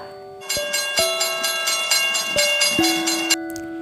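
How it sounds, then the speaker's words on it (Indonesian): A railway crossing warning bell clangs rapidly in a steady, even rhythm for a few seconds, then stops abruptly, with a low steady hum continuing underneath. "Itu adalah bel penanda datangnya kereta api"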